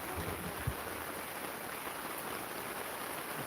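Downpour drums constantly on a tent sheltering a truck at night, a thick broadband wash of rain with a faint low thump early on and no voices.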